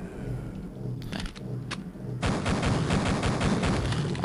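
Pistol fire in the video game Duke Nukem 3D comes as a few sharp shots, then turns into a dense, loud, continuous barrage of gunfire and explosions, with no speech.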